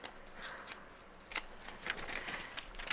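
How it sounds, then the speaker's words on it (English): Scissors snip chunks out of paper while vintage ephemera is being made, giving a run of quiet, crisp, irregular cuts up close with no talk. "technique where she just snips out some areas of the paper as well"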